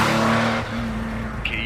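A car speeding to a bakery, heard as a loud, steady engine drone that shifts in pitch partway through, followed by a brief high squeal near the end.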